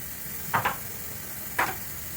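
Eggs being scrambled in oil in a wok with a faint steady sizzle and two or three quick scraping stirs of the utensil, close and quiet.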